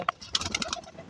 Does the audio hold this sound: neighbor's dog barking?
no